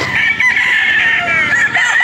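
Hens and roosters in farm pens at a poultry farm in Padre Garcia, Batangas, a loud, close chorus of clucking with crowing layered over it, several birds calling at once.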